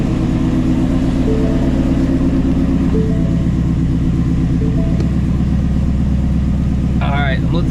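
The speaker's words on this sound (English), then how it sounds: "All right, I'm gonna let this car warm up." A Ford Shelby GT350 idles steadily as it warms up, a low, continuous engine rumble running throughout the clip, with a brief higher chirp near the end.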